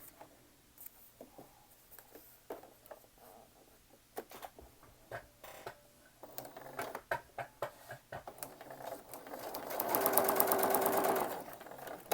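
A sewing machine stitches quilt fabric at the presser foot, with scattered clicks and fabric handling before a steady whirring run of stitching near the end.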